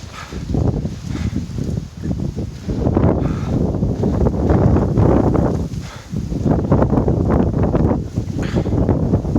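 Strong wind buffets the microphone in heavy, rumbling gusts that surge and ease, loud and close, with no one speaking, on a hike to Noksan Lighthouse in Korea.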